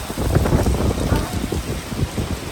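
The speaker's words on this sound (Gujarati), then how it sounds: "ખાલી સાઉન્ડ સાંભળો કેવો વરસાદ પડતો હોય છે." Heavy monsoon rain pours down steadily outdoors during a Satyanarayan katha, making a dense, loud, continuous rushing hiss with no voices.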